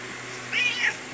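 A single indoor house cat meows once, a short rising-and-falling cry that is fairly faint and close against a quiet room background.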